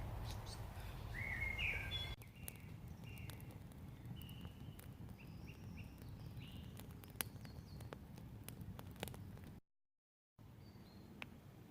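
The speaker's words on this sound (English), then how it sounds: "it goes a bit mad in there in the morning with the birds" Birds chirp and sing in scattered morning calls over a low, steady background rumble, fairly faint and distant, with a brief dropout near the end.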